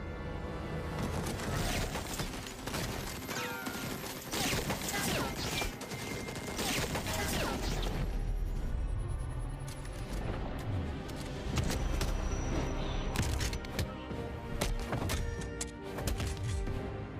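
Bursts of gunfire crackle in a dense, chaotic fusillade from an action film scene, sharp repeated shots layered over rumbling booms and mechanical clatter throughout.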